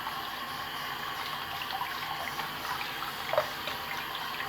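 Lukewarm tap water runs over a vinyl record being rinsed, a steady, close hiss of flowing water with a faint splash near the end.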